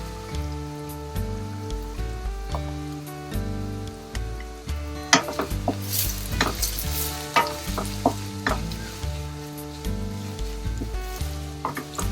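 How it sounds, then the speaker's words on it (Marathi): Finely chopped onion fries with a pinch of salt in a pan, making a continuous crackling sizzle broken by sharp spoon scrapes and stirring clicks over soft background music. "याला कांदा जरा जास्तच लागतो आणि छानपैकी भाजून घ्यायचा कांदा"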